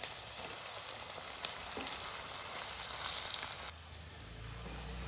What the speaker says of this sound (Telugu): ఆవాలు మంచిగా చిటపటలు అన్న తర్వాత ఆవాలు మంచిగా కొంచెం కింద పైన చిట్టుపట్ట అన్న తర్వాత ఎర్రగడ్డ వేసుకోవాలి.